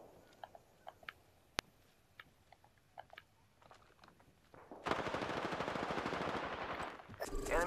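Distant gunfire in Apex Legends, scattered sharp cracks and short bursts rising to a sustained loud roar of close automatic fire near the end, with no speech over it.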